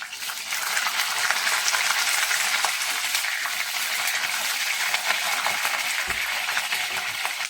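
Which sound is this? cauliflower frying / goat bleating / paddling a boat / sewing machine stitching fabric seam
cauliflower frying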